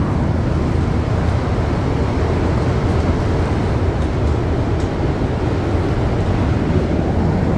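Continuous loud roar of a Montréal Métro MR-73 train in motion, dense low rumble and rushing noise holding steady throughout with a few faint clicks, no speech.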